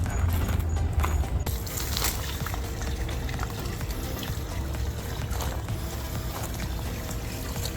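A three-tier cement water fountain runs on its pump, a continuous dense splashing and gurgling of falling water, steady and fairly close throughout.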